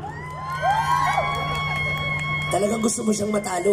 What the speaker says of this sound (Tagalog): Magpalakpakan na may kasamang sigawan ang nagsasabing